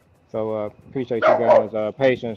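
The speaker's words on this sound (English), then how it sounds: "You can hear him barking now." A small dog barks and yips repeatedly indoors, loud and close, in a quick burst of sharp barks overlapping a man's speech.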